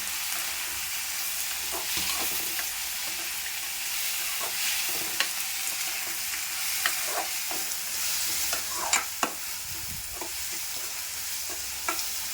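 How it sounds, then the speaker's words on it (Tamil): Steady hiss and sizzle of tomatoes and onions sautéing in a pan for a moringa leaf dish, with occasional scraping stirs and soft pops throughout. "நான் தக்காளி மட்டும் சேர்க்குறேன். நல்லா வதக்கலாம்."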